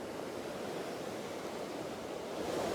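A storm-swollen river torrent rushes beneath an old bridge, a steady, dense roar of churning floodwater close by that builds slightly louder toward the end, with no voices.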